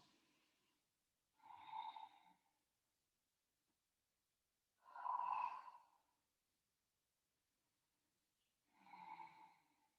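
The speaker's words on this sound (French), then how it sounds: "tu peux pratiquer cette respiration où tu entends l'air être freiné dans la gorge," Slow yogic breaths drawn through a narrowed throat, producing three soft snore-like rasps spaced a few seconds apart with quiet pauses between, close and intimate.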